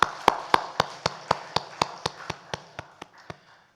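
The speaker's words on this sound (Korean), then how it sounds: "우리 박수로 축하합시다" A church congregation claps together for members' birthdays, about fifteen sharp, evenly spaced claps in a steady rhythm that gradually fade.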